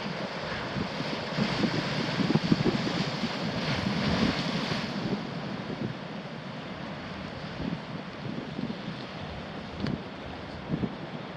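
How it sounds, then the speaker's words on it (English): Ocean surf rolling in at Haleiwa, Hawaii, a broad continuous wash of waves mixed with wind buffeting the microphone, louder early and easing off later. "we got a bit of surf coming in here"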